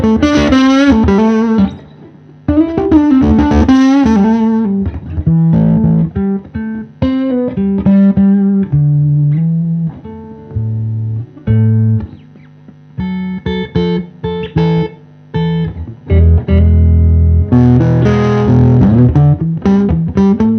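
Guitar played through a Myriad Fuzz pedal into a 64 Custom hand-wired Fender Princeton amp, a thick, saturated fuzz tone with chords, single-note runs and sustained notes, loud and close, no talking.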